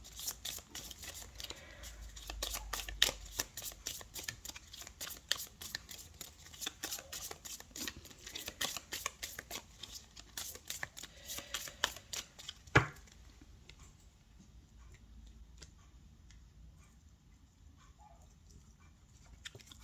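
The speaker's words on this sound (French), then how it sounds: "on va prendre 3 cartes pour le domaine sentimental" Tarot cards are shuffled in a quick run of crisp riffling flicks for about thirteen seconds, ending in a sharp snap. Softer, sparse handling follows, and no one speaks.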